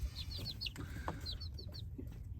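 A rooster and hens in a farmyard give a run of short, bright chirping clucks in two clusters, moderately close over a low steady background rumble.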